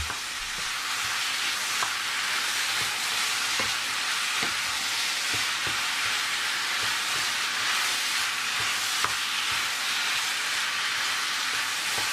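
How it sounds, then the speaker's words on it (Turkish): Meat sautés in a pot over high heat, giving a continuous loud sizzle with occasional stirring clicks and no talking. "Etimizin rengi dönene kadar yüksek ateşte kavuralım."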